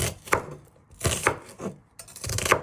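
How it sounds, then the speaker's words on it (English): A knife chops an onion into thin pieces on a cutting board, three distinct bursts of quick rhythmic taps, close and loud with no talking. "you're just chopping it into nice thin pieces"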